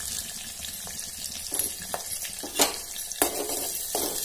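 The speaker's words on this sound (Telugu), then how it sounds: "ఇట్లా మనం కొంచెం కరివేపాకు పచ్చిమిర్చి అయితే కొంచెం వేగాలి." Curry leaves and green chillies fry in hot oil in a pan, a steady sizzle with occasional stirring scrapes and clinks of the utensil, close and continuous.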